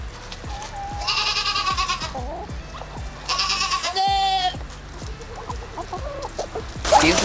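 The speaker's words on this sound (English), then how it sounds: "Excuse me, chicken." Chickens in a homestead coop give short clucks and warbling calls in several bursts, fairly close, with scuffling and other barnyard noise between them and no talk over them.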